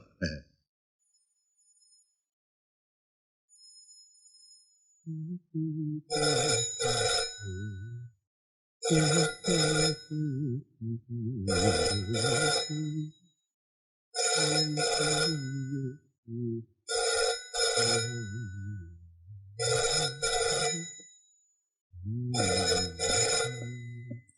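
A telephone bell rings repeatedly in evenly spaced bursts, loud and close, after a brief quiet start.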